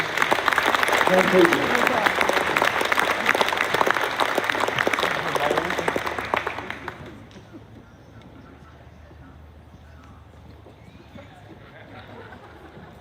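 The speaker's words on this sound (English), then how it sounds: "How about a nice round of applause for these" A crowd at a varsity sports award program gives a warm round of applause for young award recipients, steady and full for several seconds before fading out, followed by a voice speaking over quiet room noise.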